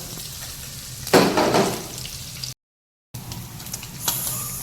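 Paneer sizzles in a hot pan as it fries on both sides, a sharp burst of frying noise swelling, briefly cutting out, then returning more softly with faint scraping.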